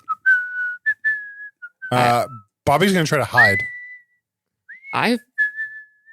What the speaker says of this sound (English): The whistling echoes through the Kitty tunnel.